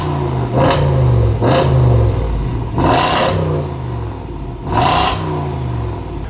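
A 2019 Range Rover SVR's engine is revved repeatedly up close and very loud. Each rev swells into a brief roar, then drops back to a rumbling idle, about four times.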